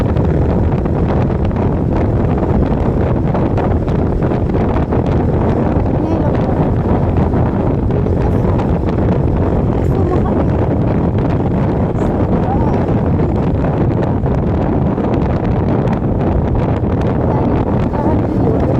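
Strong wind buffets the microphone in a constant loud roar while riding a 125 motorcycle, with voices briefly speaking beneath it.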